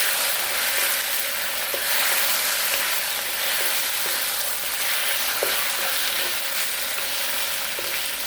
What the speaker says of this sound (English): the process of stir frying is always keep the food moving